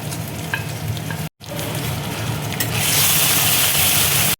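Ground spices including green chilli paste, coriander, cumin and turmeric sizzle and fry in a pan for a Bengali cauliflower fish curry, with a steady close sizzle that briefly cuts out, then swells louder and brighter as water hits the pan.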